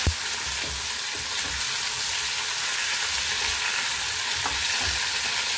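Okra with turmeric and salt is stirred in a pan over a bright, constant sizzle, with a sharp knock at the start and soft scraping strokes throughout.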